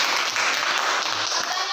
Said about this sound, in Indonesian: Oke, tepuk tangan untuk Agnes.